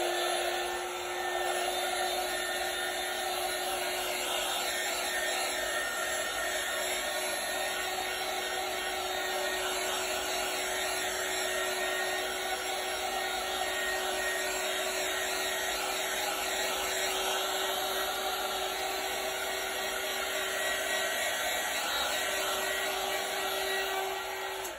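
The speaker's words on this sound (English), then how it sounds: "embossing tool that I'm going to use here" Embossing heat tool blowing hot air over acrylic pour paint, a steady, even whine and airy rush held for the whole stretch with no talk.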